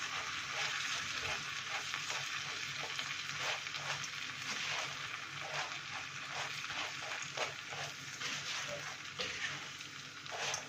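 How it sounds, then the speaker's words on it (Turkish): Erişte noodles toasting in a pan, a steady broadband sizzle with repeated scraping strokes from continuous stirring, close and even throughout, no voices. "arada devamlı karıştırıyoruz ki pembeleşen erişteler yanmasın."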